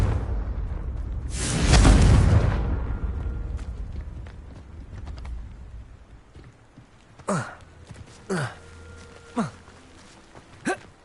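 A blasting spell detonates in the Hogwarts Legacy video game, a loud boomy explosion burst near the start that rumbles and fades, followed later by several sharp, brief impact-like cracks.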